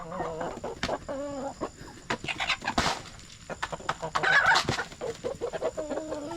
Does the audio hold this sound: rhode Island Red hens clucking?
yes